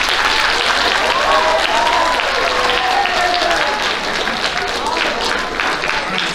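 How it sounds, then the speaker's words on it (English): A room full of high school students gives a loud, sustained round of applause for a visiting paramedic. Dense clapping fills the whole stretch, with faint voices murmuring and calling out beneath it. "So y'all give Chad a round of applause."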